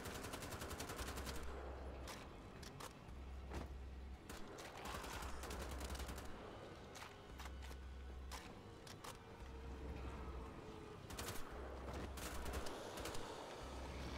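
Gunfire in the shooter game Wolfenstein: The Old Blood comes as rapid bursts and single sharp cracks scattered across the stretch, fairly quiet overall, with no talking over it.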